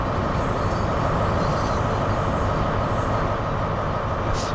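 A GWR passenger train in Train Sim World 6 slows toward a stop, giving a loud, steady rumble of wheels and running gear with a brief squeal of brakes near the end, no voices.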